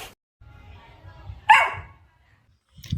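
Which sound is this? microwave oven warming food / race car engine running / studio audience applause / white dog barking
white dog barking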